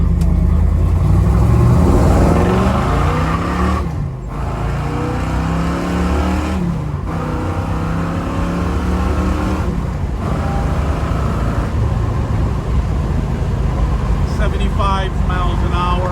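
A 1969 Chevrolet Nova with a fuel-injected 427 big-block accelerating hard, its loud engine note climbing in pitch through several gear changes, heard close from inside the car.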